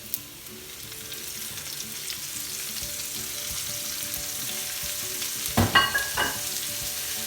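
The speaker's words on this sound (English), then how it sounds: "We're going to add in our onions and our mushrooms." Chopped onions and mushrooms sizzle in a hot pan with pancetta over turned-down heat, a steady soft frying crackle with a few louder clattering stirs near the end.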